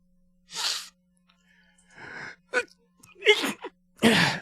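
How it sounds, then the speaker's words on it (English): A person sneezes close by, with breathy inhales and a sharp burst, amid quiet room tone. "That's my sneeze this time"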